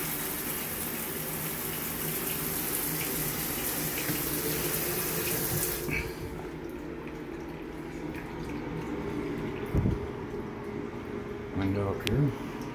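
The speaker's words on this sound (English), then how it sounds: "And probably shower's on again," A shower in a house's full bathroom runs with a steady, hissing spray for about six seconds before cutting off, leaving a quieter room with a few knocks and footsteps.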